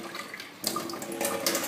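Filtered water pours into a glass, a short, close gurgling stream that starts about a third of the way in and runs to the end with no voices.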